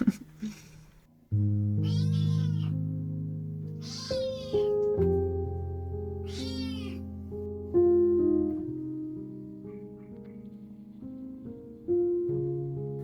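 A kitten meows several times in short, clear calls spread across the stretch, over a steady sustained musical tone playing throughout.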